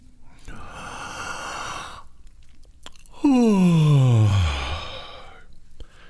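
During a vocal warm-up, a long breathy inhale is followed by a loud, close yawn whose voiced tone slides downward before trailing off into a breath.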